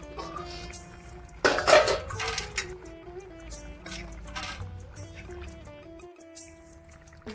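A metal cooking pot lid clatters and scrapes as it is lifted off a pot of chicken-fat dish, a sharp ringing clank followed by fainter metallic rattles and soft kitchen noise.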